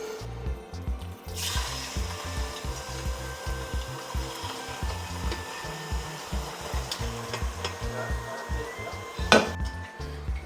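A worn metal spoon stirring food in a pan on a slow hotel-room stove, with steady rhythmic scraping and soft sizzling throughout and a sharp clink near the end, close, no talking.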